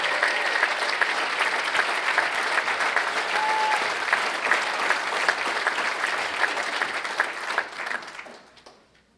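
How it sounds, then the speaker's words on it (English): Sustained audience applause with some cheering for an educator receiving an award at a philanthropy awards ceremony, loud and dense, tapering off near the end. "You have your own cheering section."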